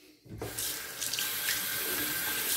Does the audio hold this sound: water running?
yes